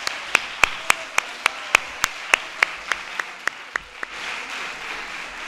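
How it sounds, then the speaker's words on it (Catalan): Applause for a graduation speech at a high school diploma ceremony: crisp, evenly spaced single claps in a steady rhythm, loud and close, stopping after about four seconds over a quiet hall. "demanava un fort aplaudiment al discurs"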